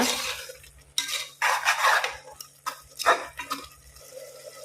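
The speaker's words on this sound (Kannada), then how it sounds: "ಸ್ವಲ್ಪ ಹೊತ್ತಿದನ್ನು ಒಳ್ಳೆ ಫ್ರೈ ಮಾಡುವ" Masala with coriander and cumin powder stirred in a pressure cooker pan for chicken gravy: loud, close bursts of scraping and metallic clinks separated by brief quiet gaps, with only faint sizzling.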